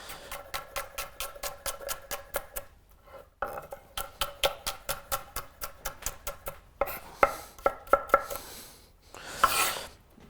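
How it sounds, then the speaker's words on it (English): A knife slices vegetable trim thinly on a cutting board, giving quick, evenly spaced taps in fast runs with short pauses between them, close and fairly quiet. "If there's any trim bits left from when you use the mandolin, just slice them down until they're nice and thin."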